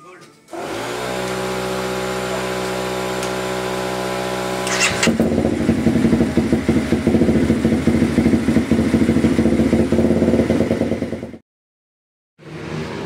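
Racing motorcycle from the Team Minerva Oil 87 endurance team with a battery charging fault: a steady engine drone that jumps to a loud, rough, pulsing run, cuts out abruptly near the end, then briefly returns.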